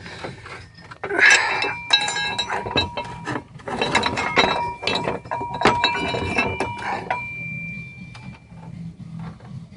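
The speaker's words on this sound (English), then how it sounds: "But I used this wrench again, and I didn't use it as a wrench." Metal wrench clinking and ratcheting against nuts while used as a lever during a water pump replacement, with irregular close clanks and scraping clicks over nearly ten seconds and faint talk in the background.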